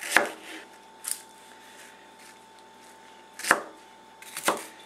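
Vegetables chopped on a cutting board for homemade French salad dressing: four separate crisp knife strokes, the last two louder and closer together, against a quiet room with no talk.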